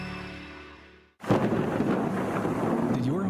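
Storm sound effect in a radio advertisement for storm damage repair: a sudden loud crack of thunder cuts in after a fading tone and gives way to a rumbling, hissing downpour of rain that continues steadily.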